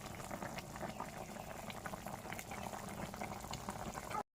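Chicken curry simmers at a steady rolling boil in a pot of spiced water, a dense continuous bubbling that runs unbroken before cutting off abruptly at the end.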